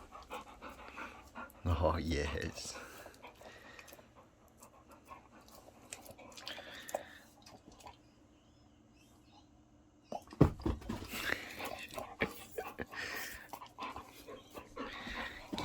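A hyper pet dog pants and snuffles close by in a home, in short bursts between a person speaking to it and other household noises.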